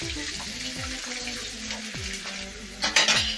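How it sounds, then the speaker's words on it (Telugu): Green chillies and onions fry in a pan for a mushroom curry, giving a steady close sizzle with stirring scrapes throughout and a louder, brighter burst of crackling near the end. "నాలుగు పచ్చిమిర్చి వేసుకుంటున్నా. బాగా ఎర్రగా ఫ్రై అవ్వనివ్వాలి."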